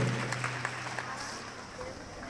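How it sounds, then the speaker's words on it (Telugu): A congregation at a Telugu Christian prayer service claps loudly, a dense burst of hand claps that thins out over a couple of seconds amid a reverberant room. "గట్టిగా చప్పట్లు కొట్టి గట్టిగా దేవుని మహిమ పరుతారు."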